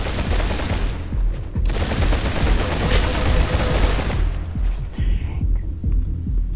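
AK rifle fire in Roblox Arsenal rattles in fast, repeated bursts, loud and close, with dense shots and heavy thumps carrying through a few seconds before tapering off.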